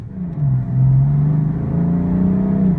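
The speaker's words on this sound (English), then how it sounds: "Very fast acceleration," A 2016 BMW M3 sedan pulls away hard from a stop sign, its engine note rising in a loud, steady rumbling surge that holds strong for the whole stretch.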